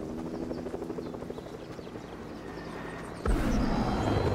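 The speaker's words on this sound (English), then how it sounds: "Oh, that's a helicopter." A helicopter in a video game thumps overhead with a rhythmic rotor chop, fairly loud and steady, before a sudden louder roar of game noise takes over; no talk is heard.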